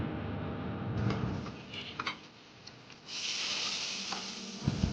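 Hot oil tempered with dried red chilies, cumin and five-spice hits cooked lentils and vegetables in a sudden sharp sizzle that hisses on steadily after a few clinks of utensils.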